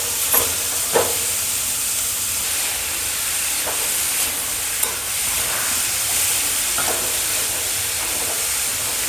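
Shredded cabbage fries in a hot pan for kobi paratha, giving off a steady loud sizzle and hiss. A spoon clinks against the pan now and then as it is stirred.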